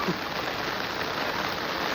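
Rain falls steadily around a temple in a town, a dense, even hiss of drops that stays loud and unbroken, with no voices.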